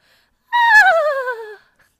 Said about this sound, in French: Un petit toutou trop mignon